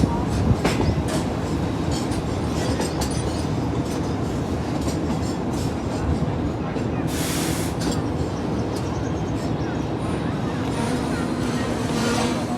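The Green Line Express train approaches Chaklala railway station in Pakistan, rumbling steadily nearby, wheels clattering on the rails, with a brief high screech partway through.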